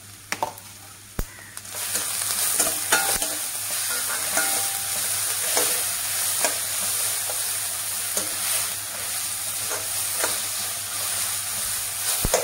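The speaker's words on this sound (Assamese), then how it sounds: "এতিয়া এইখিনি ভাজিব লাগিব লাহে লাহে" Bottle gourd and fish fry in a pan as a dense sizzle that begins after a quiet opening, with clicks of a spoon stirring through the constant crackle and no talk.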